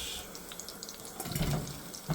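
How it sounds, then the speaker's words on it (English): Water is poured into a pot of curry sauce ingredients: salt, turmeric, vegetable stock cubes, tomato paste, ginger and garlic paste and white onions. It makes a steady, soft splashing trickle that swells louder toward the end. "and then add enough water just to cover the ingredients"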